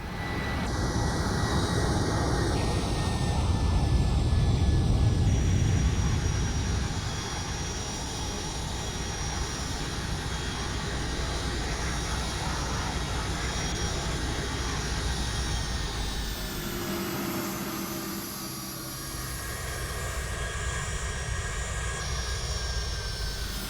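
Flight Factor Boeing 757 in the X-Plane 11 simulator landing at Salt Lake City, its engines droning steadily and loudly, swelling early then easing back and shifting pitch toward the end as the jet slows.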